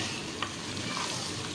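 Potato and green bean curry sizzling in a pan as garam masala is stirred in, a constant soft frying hiss with a faint scrape near the start.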